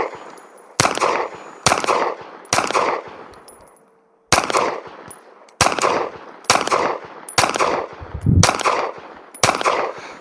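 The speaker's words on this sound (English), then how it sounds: "I'm going to try to pull the trigger with less force." A Canik pistol fires about nine sharp, loud shots at uneven intervals, each followed by a short decaying echo.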